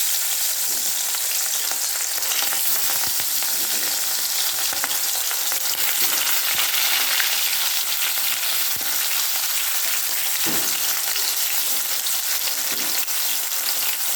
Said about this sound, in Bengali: এবার একে একে মাছগুলো কড়াইতে ভেজে নেব।